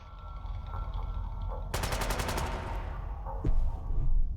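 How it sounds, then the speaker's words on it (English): An automated turret in a wasteland video game fires a rapid burst of gunshots in a tight, evenly spaced stream, loud and close, followed by heavier booming impacts over continuous background game noise. "Yeah, the turret's doing a lot of work here."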